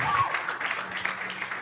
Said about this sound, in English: And everybody just clap for The Groove